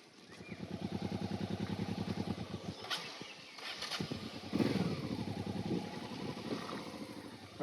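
Off-road motorcycle engine accelerating down a clay descent, a steady pulsing drone that swells and surges as the throttle opens, with rattles and scrapes of the terrain, moderately close.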